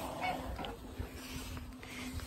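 Ducks quacking at bedtime in a backyard garden, a steady chorus of honks and quacks over constant background noise and hum, close and moderately loud.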